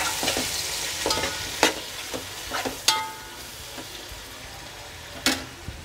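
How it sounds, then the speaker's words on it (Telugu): Turmeric is stirred into a prawn biryani mixture frying in a pan, with a soft steady sizzle and several sharp scraping clicks of the spoon against the pan, and no voices. "పసుపు వేసి తిప్పుకున్నాం."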